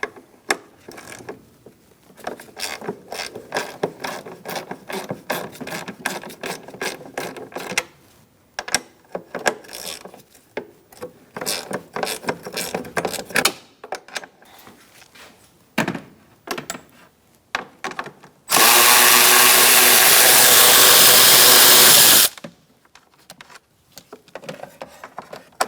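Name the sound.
loosening two nuts with 10mm socket on Ford Focus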